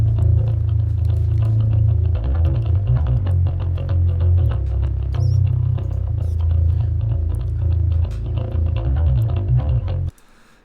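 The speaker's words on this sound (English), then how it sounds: "And so the bass itself, just raw, sounds like this." Raw, unprocessed four-string bass guitar tuned down to A, playing a loud, steady low riff with repeated plucked notes, dry and boomy, stopping abruptly near the end.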